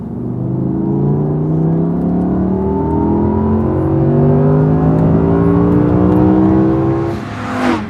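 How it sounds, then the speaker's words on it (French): Naturally aspirated V10 of a 2019 Audi R8 V10 Performance (620 hp) revving up to 8500 rpm, a loud, close, continuous climbing engine howl with rising harmonics throughout, easing off at the very end, with no voices. "on commence direct par la particularité technique de cette voiture, c'est-à-dire le V10 atmosphérique, et on vous fait tout de suite profiter des vocalises de cet engin"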